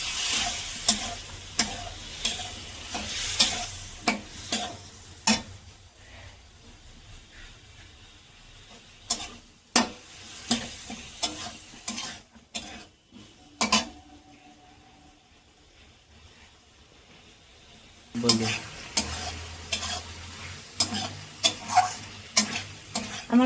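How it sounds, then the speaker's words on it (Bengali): Masala being stirred and fried in a pan while cooking a cabbage dish in Bengali style, with intermittent scraping stirs and sizzling bursts over a quiet stretch midway, close and fairly soft, no talking. "আমার মশলা কষানো হয়ে গেছে"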